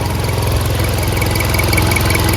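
A 2015 Swift Dzire VXI petrol car engine idles steadily up close, a smooth even rumble with a faint rhythmic pulse and no talking.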